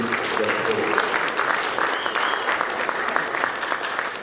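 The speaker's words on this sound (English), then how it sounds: "I request you to give the UAE government a round of applause in appreciation of their support." Audience applause fills a hall at a Uganda tourism trade and investment forum in Dubai, a steady, dense wash of many clapping hands lasting throughout without letup.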